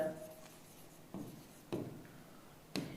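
A pen scratching across a board while writing out a geometric progression proof, with several short strokes and sharper taps at irregular intervals, close and fairly quiet.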